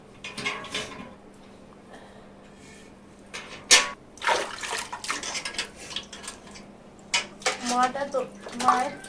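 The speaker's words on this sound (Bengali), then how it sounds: "মা তরমুজটা ধুয়ে নিচ্ছে।" Watermelon, mango and lychee being washed under running water: intermittent splashing and rushing water bursts, close by, with bowls knocking and voices heard in the background.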